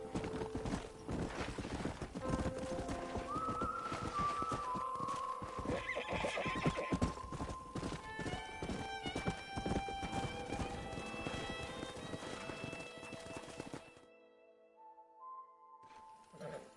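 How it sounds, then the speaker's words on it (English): Horses in the video game Red Dead Redemption whinny and neigh loudly while hooves clatter and clop in a busy stream, then things quiet down near the end. "We got some fine horses."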